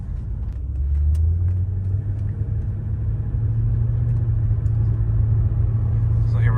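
Mercedes W210 sedan with a gutted AMG muffler accelerating gently, its deep, steady exhaust drone rising slightly and holding loud and close from inside the cabin, with no talk over it.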